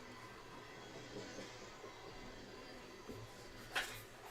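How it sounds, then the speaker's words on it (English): The rear of a freight train passes trackside, a faint steady rumble of rolling railcars with soft wheel clatter and one brief squeal near the end. "Well, here's the rear of our train."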